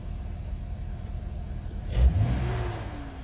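A Jeep Cherokee XJ engine running at idle with a rough idle and stalling problem, a steady low rumble that swells briefly in a short rev partway through, then settles back to a close, even idle.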